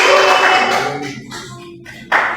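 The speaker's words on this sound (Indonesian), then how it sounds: "tepuk tangan buat Mbak Umi Ati" A small classroom audience in a micro-teaching session applauds a presenter: a dense burst of clapping that thins and fades into near quiet, then a short fresh flurry of claps at the end.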